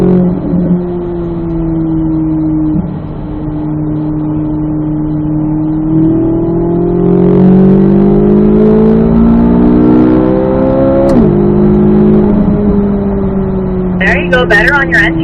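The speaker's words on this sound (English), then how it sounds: "As soon as that car starts to point to the apex, you're good to roll to that throttle." A Corvette Z06 accelerates around a race track, its engine climbing and dropping in pitch through gear changes, loud and close, with a voice talking over it and a few sharp clicks near the end.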